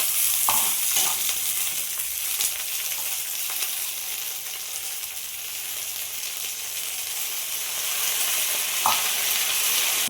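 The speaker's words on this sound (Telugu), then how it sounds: "2 నిమిషాలు ఈ పుదీనా వేసి వేయించానండి" Fresh mint leaves frying lightly in a pan, a continuous bright sizzle held for several seconds, with a couple of brief stirring knocks near the start and again near the end.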